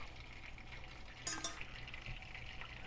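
A pan of sugar-free dessert topping with sweetener is stirred gently over quiet heat, a soft scraping and faint sizzle, with a brief clinking scrape near the middle.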